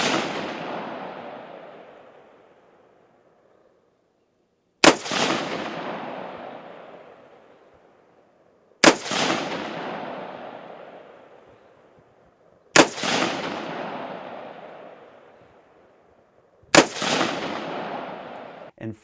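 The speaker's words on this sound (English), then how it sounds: "Then the AR-15 took the center stage. I started with some classic 55 grain FMJ 223 ammunition." An AR-15 rifle fires 55 grain FMJ .223 rounds in four sharp, loud single shots spaced about four seconds apart, each followed by a long echoing decay, with one echo already fading at the start.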